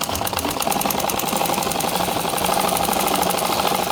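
A sewing machine stitching a 1-inch fold in cloth, running steadily and continuously with a fast, even mechanical whirr and rhythmic ticking, loud and close, with no pauses.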